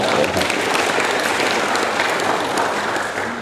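Lively applause from an audience at a talk, a dense, steady wash of many hands clapping that runs throughout and eases slightly at the end.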